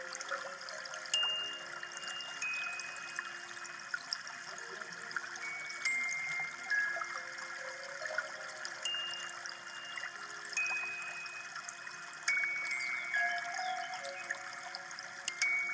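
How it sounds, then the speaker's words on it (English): Underwater swimming in Guild Wars 2, a soft continuous watery wash with faint bubbling and occasional small tonal blips, quiet and steady throughout with no voices. "So now we're swimming"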